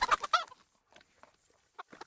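Chickens clucking in the medieval video game Kingdom Come Deliverance, with a few loud, close clucks at the start, then sparse, fainter clucks scattered through the rest.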